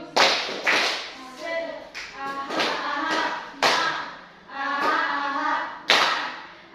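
Rhythmic hand claps for the 'tepuk semangat' spirit clap come in sharp bursts spaced a second or two apart, with a voice chanting along between and over them.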